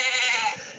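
A single short goat bleat, close and clear, wavering briefly before it fades, heard alone.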